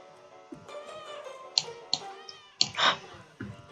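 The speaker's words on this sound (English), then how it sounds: "Oh, hello, cat." A cat meowing in a Roblox burger-cooking game, several short electronic-sounding meows and clicks spaced irregularly, alone without talk.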